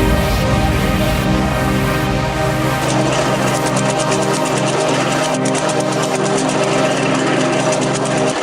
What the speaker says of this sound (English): The wood grinder, raw power, precision, and efficiency working together to fuel the green economy.